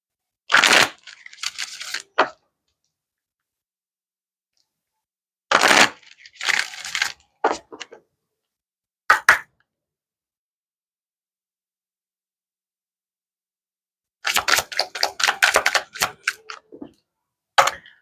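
Angel oracle cards are shuffled in several short bursts of crisp, papery riffling, separated by stretches of silence.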